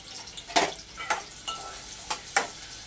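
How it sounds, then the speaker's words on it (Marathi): Onion frying in hot oil for a Kokani chicken curry: a soft, low sizzle broken by several distinct stirring scrapes and clinks at irregular intervals, fairly quiet and close, with no talking. "तेल गरम झालं की त्याच्यामध्ये आपल्याला घालायचं आहे कांदा आणि कांदा आपल्याला गुलाबी रंगावर छान असा फ्राय करून घ्यायचा आहे"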